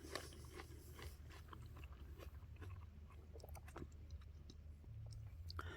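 A crunchy, sweet Black Diamond plum is bitten and chewed close up, with crisp crunches and moist chewing continuing quietly throughout and no talking.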